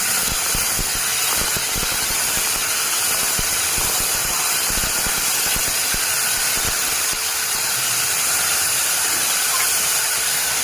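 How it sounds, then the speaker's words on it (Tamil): Sliced onion and garlic sauté in a pan for a Chettinad drumstick and brinjal kara kuzhambu, giving a continuous loud hissing sizzle with steady crackle that stays even throughout. "நல்லா வதக்கி விடுங்க வெங்காயத்தை."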